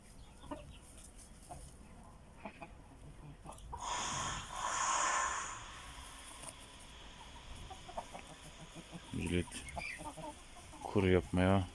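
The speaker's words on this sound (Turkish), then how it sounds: "Nazlıcan Horoz'a yaklaşıyor arkadaşlar." Chickens cluck and a rooster calls amid farmyard noise, with a louder burst of fowl sounds midway and sharp clucks near the end.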